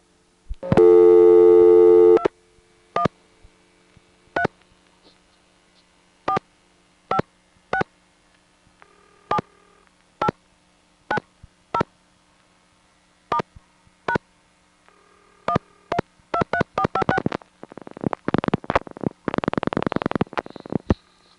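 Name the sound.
telephone call to a vacant number, dialing and intercept signals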